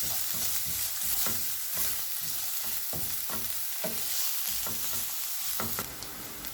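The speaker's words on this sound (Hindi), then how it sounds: "1 अदद कटी हुई गाजर डालेंगे। 1 मिनट तक गाजर को फ्राई करेंगे।" Chopped carrot fries in a spoonful of cooking oil in a pan, a dense continuous sizzle broken by repeated scraping stirs at a near-regular pace, close and alone without speech.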